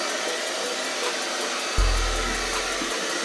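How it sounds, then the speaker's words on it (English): A hair dryer switches on partway through and blows with a steady whirring rush, used to heat Dollar Tree window insulation film over a constant background hiss. "Blow drying my hair."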